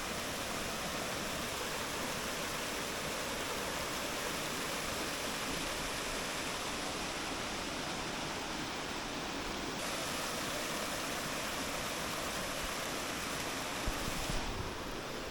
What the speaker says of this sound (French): Voici ce pourquoi nous avons fait toute cette route, cette cascade.